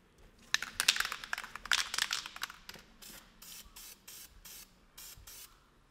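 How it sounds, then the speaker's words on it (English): CRC blue layout fluid sprayed onto knife steel: a dense hissing aerosol burst in the first half, then five or six short separate spray bursts in a steady rhythm, close and fairly loud. "I'm going to be using this blue layout fluid that CRC sent me"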